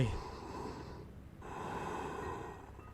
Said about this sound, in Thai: เสียงหายใจ